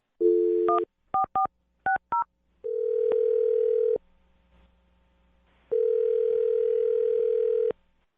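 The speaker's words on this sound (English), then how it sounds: "I'm going to dial his phone number right now." A telephone dials a number: a few short touch-tone beeps in quick succession, then a steady ringback tone, a pause, and a second long ring tone, clear and close with no talking.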